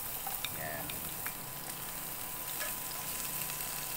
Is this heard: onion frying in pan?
yes